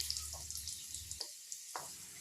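Chopped garlic frying in hot oil in a pan, a steady faint sizzle with a few light clinks and scrapes as it is stirred.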